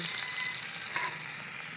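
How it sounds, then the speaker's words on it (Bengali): Small rohu fish sizzle steadily in hot oil, a close, continuous crackling hiss with no voices. "মাছটা সুন্দর লাল লাল করে ভাজা হচ্ছে"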